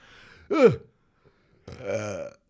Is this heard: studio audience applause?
no